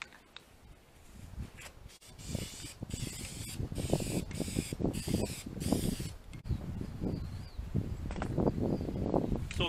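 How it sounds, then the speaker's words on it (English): A rattle can of white spray paint hisses in uneven bursts over a farmhouse-style paper towel holder, close and fairly quiet, mixed with soft handling noises. "I'm just using some rattle can white on this."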